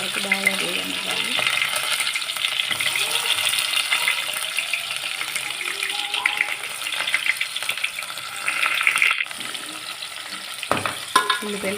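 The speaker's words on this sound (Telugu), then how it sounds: "2 ఉల్లిపాయలు వేసుకొని ఉల్లిపాయలు ఎర్రగా వరకు బాగా వేగనివ్వాలి." Onions frying in oil in a pan for tomato curry give a steady, fairly close sizzle with occasional stirring clinks, alone without speech.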